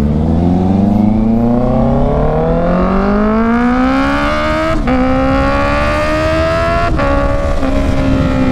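A Honda CB650R motorcycle engine revs loudly and steadily upward through its exhaust, pitch climbing over several seconds with brief dips at gear shifts, close and continuous.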